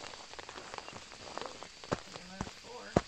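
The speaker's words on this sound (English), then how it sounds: "rain patter on the tent" Rain patters on a tent in the Phasmophobia video game, a soft, steady spray of light drops with a few sharper, louder taps scattered through, heard quietly and close by.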